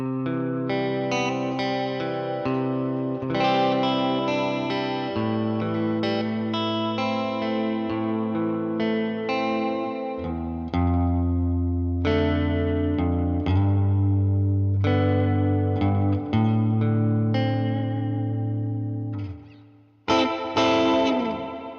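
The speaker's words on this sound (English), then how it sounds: "And with the reverb pedal engaged." Electric guitar played through a Purdy Tube Amps reverb pedal into a tweed amp, sustained chords and melodic notes with a wet reverb tail, loud and continuous, alone with no talk, ending on a brief decaying strum.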